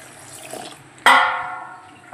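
Water is poured onto rice in a vessel to soak it: after a quiet start, a sudden close splash gives way to a ringing, filling gurgle that gradually fades.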